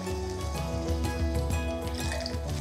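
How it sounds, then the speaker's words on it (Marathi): Water poured from a tap or vessel into washed lentils and rice in a kitchen pot, a steady continuous splashing fill, close and moderately loud, with no talk. "इथे डाळ तांदूळ एकत्र स्वच्छ धुवून घेतले की यामध्ये पुरेसं पाणी घालायचं"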